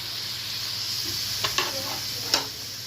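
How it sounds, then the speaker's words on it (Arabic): Sautéed onions sizzle in a pan as meat goes in, a steady frying hiss broken by a few sharp crackles and pops near the end. "احنا يا حبايبي ادينا الايه البصل تشويحه. هنحط اللحمه"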